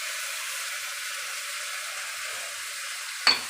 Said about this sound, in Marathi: अद्रक लसणाचा वास जाऊपर्यंत फ्राय करून घ्यायची आहे